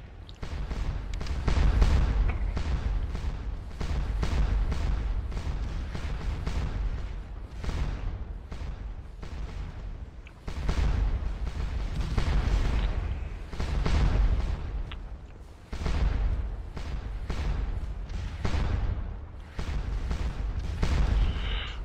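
Massed cannon fire from the Grand Battery on the field of Waterloo in Scourge of War: Waterloo, a continuous rolling barrage of deep booms, dense and loud throughout with no voices.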